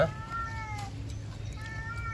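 A cat meows twice, a short call near the start and another near the end, both fairly close and clear over steady low background hum.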